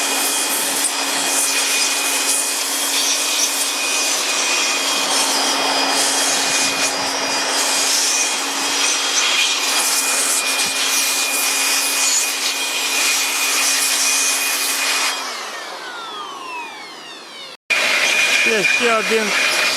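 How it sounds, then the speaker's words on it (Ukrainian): A loud, steady leaf blower blasts bees off honey frames during a honey harvest at an apiary, roaring continuously for about fifteen seconds before cutting out, then briefly starting up again. "коли вітродуйкою видуваються бджоли"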